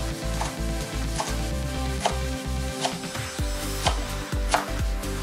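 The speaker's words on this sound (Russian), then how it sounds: "Нарезаем кинзу." A knife chops fresh coriander (cilantro) on a board, steady rapid strikes in a close, loud rhythm with a few sharper knocks, no talking over it.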